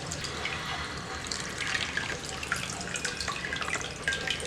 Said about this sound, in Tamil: இதெல்லாம் அப்படியே நல்லா கையை நல்லா பிசைஞ்சு கழுவிக்குங்க.